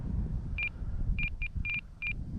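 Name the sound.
beeping and buzzing from RC airplane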